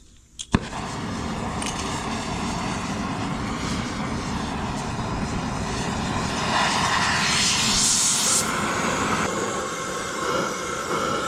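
A steady, roaring torch flame with a broad hiss that runs throughout, heating a gear on a 1960 John Deere 430 tractor final drive, after a brief metallic clank at the start.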